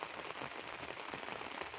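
Dense, even hiss of monsoon rain pattering on a paddy field in Punjab, a steady close wash of countless drops with no voices.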